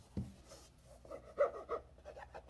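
A hand rubs across a shiny canvas notebook cover, giving a few soft, close scuffing strokes with brief pauses between them, quiet and heard alone.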